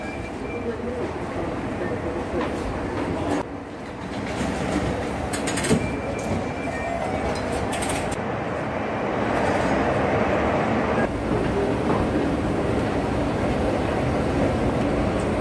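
A metro train in Istanbul rumbles and rattles loudly in motion, a continuous low roar with clanks and a swelling hum, with voices talking beneath it.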